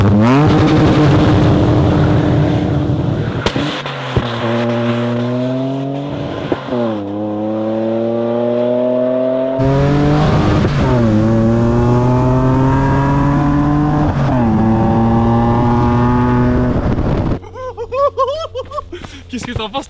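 Two BMW E30s, a 335i petrol and a 330d diesel swap, rev hard and accelerate with rising, stepping gear pulls and tyre wheelspin, loud and close, with people laughing and chatting over the engines.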